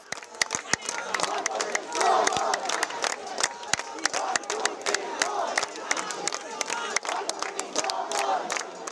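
Students chant slogans in unison at a campus protest march, a loud crowd of voices shouting in steady rhythmic bursts with sharp claps or drum hits punctuating the chant throughout.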